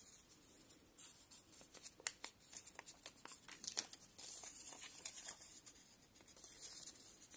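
Paper strips for the handles of an origami tiger gift bag are handled up close, giving soft, quiet rustles, crinkles and small scraping taps in irregular bursts.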